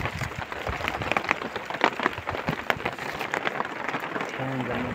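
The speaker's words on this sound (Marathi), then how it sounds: "पावसाचा जोर धरला. आता पाऊस वाढायला लागला." Heavy rain falling on farmland where sorghum grows, a dense, continuous patter close by with scattered louder drops, ending with a faint tonal sound near the end.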